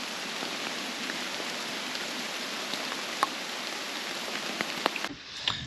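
Steady rain pattering on leaves and ground while sheltering under a tree on the Malvern Hills, with scattered louder drips landing close by before the downpour abruptly cuts off near the end.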